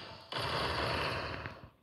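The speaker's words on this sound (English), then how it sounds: "he's shooting me with his gun" Gunfire from an enemy's weapon in the Roblox game Blox Fruits, a dense continuous burst of shots lasting over a second, fairly close and loud, then tapering off.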